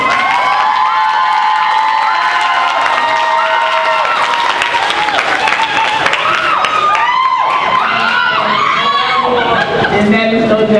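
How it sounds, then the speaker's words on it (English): Audience at an evening honoree ceremony at a senior center breaks into sustained applause and cheering for a co-founder of a youth group, a dense steady roar of clapping with shouts and whoops throughout. "that is no doubt a welcome applause"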